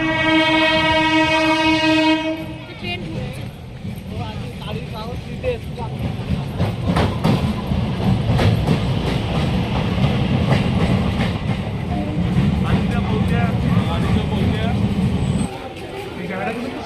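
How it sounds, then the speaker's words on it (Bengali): A train pulls into Barrackpore station, opening with a long loud horn blast before giving way to a rumbling, rattling roar of passing wagons with clickety-clack, nearby and sustained, with people talking over it. "এই যে ট্রেন আসছে।"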